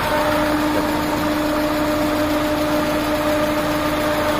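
A Peugeot 206 with a manual gearbox idles steadily nearby, a constant even engine hum with a faint mechanical whine and no revving, loud and alone.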